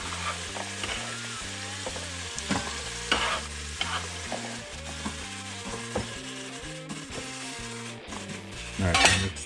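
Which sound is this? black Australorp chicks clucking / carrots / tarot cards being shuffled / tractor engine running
carrots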